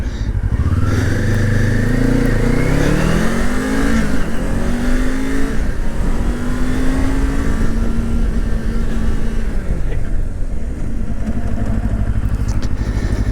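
A Kawasaki Ninja 500 motorcycle engine revs up through rising pitches as it accelerates to about 50 mph, loud and close, then winds down under hard ABS braking, with steady rumbling throughout.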